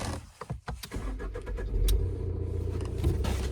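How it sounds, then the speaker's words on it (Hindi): A car engine revs as the accelerator is worked by a hand control on a vehicle adapted for a disabled driver, a steady low rumble rising in the middle of the clip, recorded close inside the car. "तो ये एक्सीलेटर हो रहा है, दिख रहा है"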